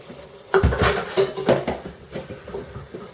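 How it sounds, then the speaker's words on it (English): Apples with sugar being stirred in a pan, a spoon knocking and scraping against the metal in a few quick, close clatters before the sound fades to quiet. "Next we have 2 ounces of sugar, and I shall stir these apples."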